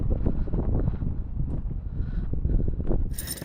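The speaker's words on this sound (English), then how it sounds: "Yes, it is windy, and it's going to get worse." Desert wind gusting against a Springbar Classic Jack 100 canvas tent, a rough, buffeting rush close to the microphone that rises and falls without pause.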